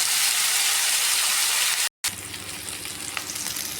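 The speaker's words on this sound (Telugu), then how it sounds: "చూడండి ఎంత చక్కగా ఫ్రై అవుతుందో" Boiled cluster beans fry in a pan, a dense continuous sizzle broken by a momentary silent gap before the frying resumes slightly quieter with faint stirring.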